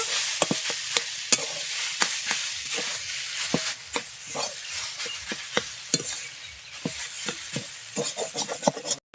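Utensil scraping and stirring a cumin and coriander spice mixture in a pan over a steady sizzle, with irregular clinks and scrapes repeating throughout, close up and without speech.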